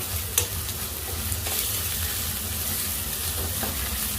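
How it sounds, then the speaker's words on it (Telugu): Chicken frying for a village-style curry, stirred in a pan on high heat: a steady, loud sizzle close by, with occasional scrapes of the spoon and no talking. "ఇప్పుడైతే ఇందులో చికెన్ వేసేసుకున్నామండి."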